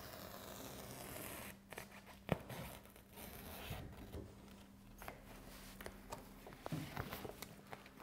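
A utility knife slices vertically through peel and stick housewrap at a window rough opening, giving faint scratchy tearing and crinkling sounds in short bursts over a quiet, low room hum.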